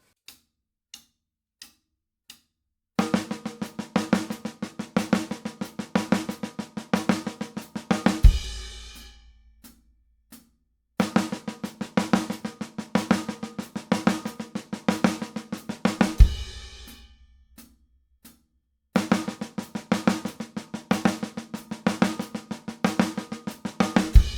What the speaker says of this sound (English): our double accented paradiddle-diddle over the course of those 2 measures would sound like this